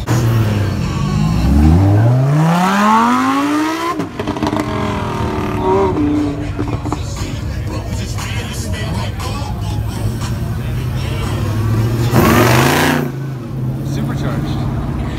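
A Toyota Supra revs hard outdoors, its engine note sweeping up in pitch with a rising whine, then dropping back and flaring again in a second loud burst, with people talking over it.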